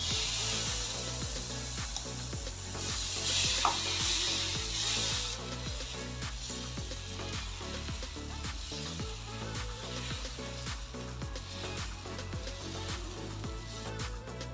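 Pearl millet onion dosa batter ladled onto a hot pan, with a steady scraping, rubbing texture and a brief hiss of sizzling near the start, running continuously over a low rhythmic background.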